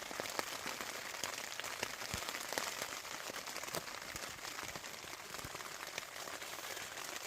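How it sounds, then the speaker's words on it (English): Steady rain patters densely on a tent during a wild camp in Kielder Forest, a close, continuous hiss of drops with occasional heavier taps, heard alone without talk. "See all the rain on the tent"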